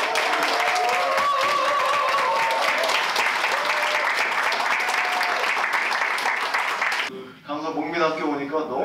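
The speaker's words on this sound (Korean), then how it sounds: "큰 박수 부탁드리겠습니다." An audience gives a lawmaker a warm welcome with steady, full applause for about seven seconds, which then fades out as a single voice begins speaking.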